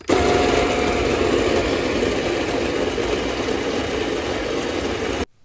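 An Ollygrin electric coffee grinder grinds beans at a medium-fine setting, giving a loud, steady motor whir for about five seconds before cutting off abruptly.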